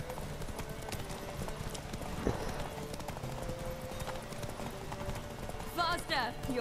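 Roach, a horse in The Witcher 3 video game, gallops with a loud, continuous clip-clop of hooves over ambient game sound, with a brief whinny near the end.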